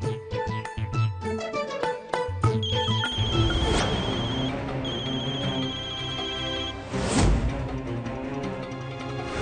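A telephone rings with a repeating electronic ringtone during a Marathi television drama scene, heard at moderate level over background music score, with no speech.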